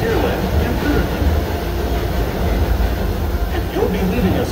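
Disneyland Railroad steam excursion train pulling into New Orleans Square Station, a continuous rumbling roll of wheels on track with faint squeals, while a voice speaks over the train noise.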